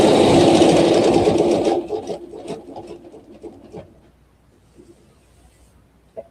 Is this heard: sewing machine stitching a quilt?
yes